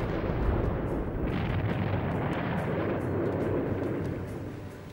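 The Krakatoa volcanic eruption, a massive explosion heard as a loud, continuous, roaring rumble with crackling bursts that tapers slightly toward the end.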